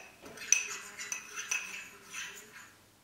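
A spoon stirs lemon juice in a small bowl, giving a series of light metallic clinks and scrapes against the sides, close and fairly quiet with no talking.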